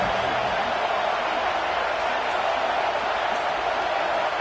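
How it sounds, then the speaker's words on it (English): A college football stadium crowd roars in a dense, steady wall of noise as fans urge on their defense, sustained without a break across the whole stretch. "Listen to this crowd just shaking the girders of this place"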